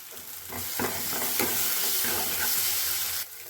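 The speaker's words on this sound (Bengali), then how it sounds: "টমেটোর কাঁচা গন্ধটা চলে যাওয়া অবধি এটাকে ভালো করে কষিয়ে নেব" Tomato paste sautéing in a pan, a dense, bright sizzle that holds steady for about three seconds with faint stirring scrapes, then cuts off abruptly.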